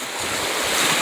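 Ocean waves wash onto a sandy beach in a steady, full roar of surf, with wind buffeting the microphone throughout.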